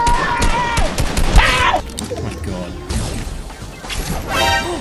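Video game gunshots crack in sharp bursts, loud and close, mixed with crashes and other game effects while a voice talks over them.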